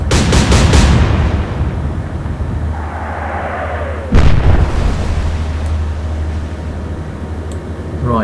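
Naval guns fire in the Atlantic Fleet game: a rapid cluster of loud booms opens, a single heavy blast lands near the middle, and a low rumbling engine drone and distant splashy noise carry on between shots.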